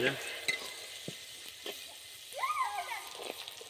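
Potatoes sizzle and fry in a pan while being stirred and browned for a spicy beef tripe curry, with scattered scraping stirs and soft bubbling, fairly quiet and close.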